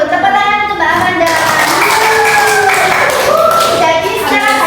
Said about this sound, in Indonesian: Tepuk tangan untuk Mbak Amanda.